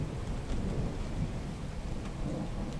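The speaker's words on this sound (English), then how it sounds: "we got a pretty severe thunderstorm going on the map right now" A heavy video game thunderstorm on a Battle of Palmyra map, with dense steady rain and low rolling thunder forming a loud continuous wash, no talking.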